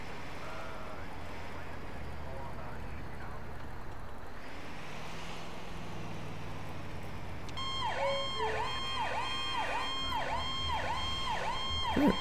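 A fire truck siren from a GTA IV firefighter mod kicks in partway through, rapid repeated yelping sweeps loud and close over a constant engine drone.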